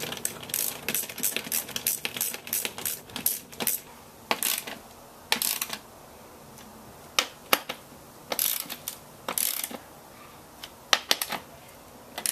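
Screws on a golf cart handle are tightened a little at a time, producing irregular bursts of close, dry ratcheting clicks separated by short pauses.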